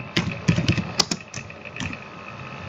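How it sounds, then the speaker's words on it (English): Typing on a computer keyboard while entering a name into a WordPress hosting setup form: a short, uneven run of close, crisp key clicks with brief pauses between keystrokes. "Now we have to type our name"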